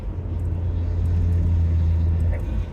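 Inside the cabin of a 2009 Acura RDX in sport mode and fifth gear, the engine drones as the car decelerates with the throttle released: a loud, steady low hum with road rumble, heard alone.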